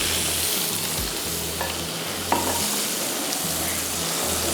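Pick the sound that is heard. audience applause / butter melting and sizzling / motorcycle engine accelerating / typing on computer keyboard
butter melting and sizzling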